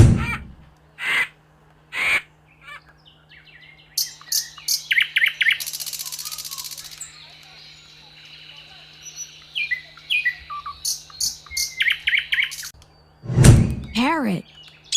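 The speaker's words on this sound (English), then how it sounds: "Vulture." A vulture gives a series of short, sharp calls in separate bursts, some repeated quickly in clusters, with quiet gaps between them and a low steady hum underneath.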